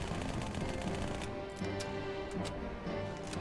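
Sustained rapid automatic fire from an SMG in Halo 2, a dense continuous burst of gunshots held until the magazine runs dry, loud and without talk.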